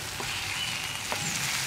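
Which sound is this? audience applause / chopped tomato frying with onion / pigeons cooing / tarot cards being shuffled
chopped tomato frying with onion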